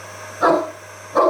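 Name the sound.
Great Dane dog barking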